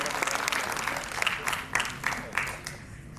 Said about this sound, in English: Audience, louder cheering please